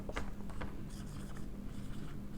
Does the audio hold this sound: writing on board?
yes